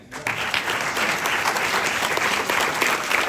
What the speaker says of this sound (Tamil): அவங்களுக்கு ஒரு கைத்தட்டுங்க